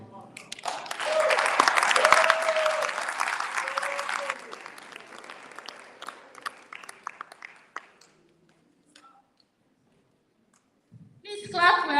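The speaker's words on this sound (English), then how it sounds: "Please clap well. Clap, clap, clap, clap, clap." Conference audience applauds after a speech, loud and dense for about four seconds, then thinning into scattered claps and fading to near silence before talk resumes.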